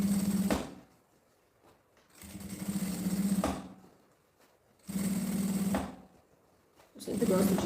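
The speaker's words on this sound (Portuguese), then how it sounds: "Eu sempre gosto de ir costurando e puxando o forro aqui." A sewing machine stitches a bag lining in three steady whirring runs of about a second and a half each, close and fairly loud, separated by quiet pauses while a voice talks.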